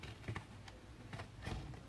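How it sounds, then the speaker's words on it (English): Scissors cut straight across a cardboard box in a few crisp, quiet snips spaced irregularly over a couple of seconds, with no voices. "I'm just going to use my scissors and just cut straight across."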